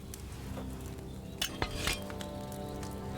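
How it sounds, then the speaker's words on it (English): A potion cauldron bubbling and boiling over a fire in Kingdom Come Deliverance 2, a low continuous bubbling with a few sharp metallic clinks and stirring scrapes near the middle. "Hear that bubbling? It's boiling."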